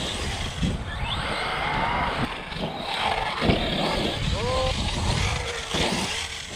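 An Arrma Krayon 4s RC car fitted with upgraded steel crown and pinion gears accelerates with a whining, surging electric motor. The motor rises and falls over steady outdoor noise, with a person speaking over it.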